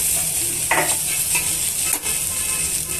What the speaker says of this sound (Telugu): స్టవ్ సిమ్లో పెట్టుకొని వేయించుకోవాలండి